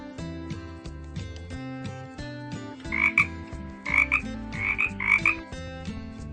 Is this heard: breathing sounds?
no